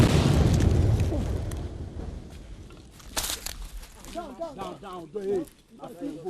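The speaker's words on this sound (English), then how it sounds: "The explosion you just heard was from soldiers using explosives to destroy an excavator" A loud explosion from explosives destroying an excavator booms at the start and its rumble fades over a couple of seconds, followed by people talking nearby.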